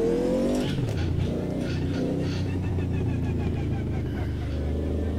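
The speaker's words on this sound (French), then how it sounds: "Le sifflement de la transmission." A historic 1983-era race car at Bathurst in the Automobilista 2 sim racing game runs loud and continuous, engine roar with a high transmission whine that drops off early, then sustained rumbling drive close up.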